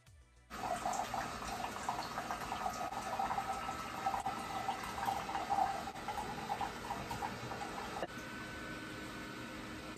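A single-serve coffee maker running with no pod in it, pouring hot water into a mug. A steady, soft stream of water runs for about eight seconds and then gets quieter.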